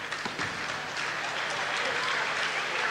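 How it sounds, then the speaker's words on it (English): Crowd applause at a 1980s basketball game in Ulverstone, a steady wash of clapping from the stands lasting a few seconds, fairly distant and even. "Applause for Herbst."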